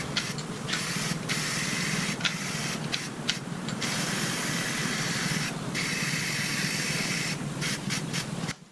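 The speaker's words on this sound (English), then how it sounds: "I was outside applying numerous coats and trying to touch up the spots that I had missed on this framework." Spray paint hisses onto a poolside bench framework outdoors in a nearly continuous, close jet, broken by many short pauses between passes.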